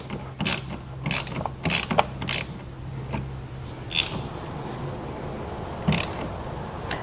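Tightening a battery terminal connection while installing a trailer brake controller in a vehicle: a series of short metallic ratcheting clicks in bursts, near and fairly quiet, with pauses between them.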